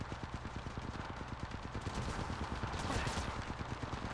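Rapid automatic gunfire from a firefight in the mobile battle royale Apex Mobile, a dense stream of close shots rattling continuously with busy game noise underneath.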